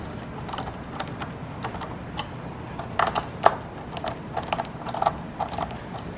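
Server parts being pressed into a Dell R740xd2 storage server chassis, giving a run of small plastic and metal clicks and taps, a few sharper snaps near the middle, close and fairly quiet over a low background hum.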